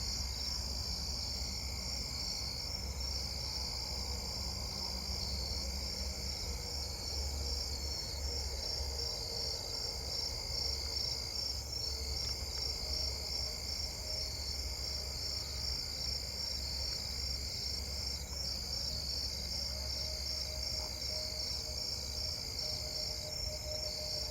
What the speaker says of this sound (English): Up there is Davis's tree crickets.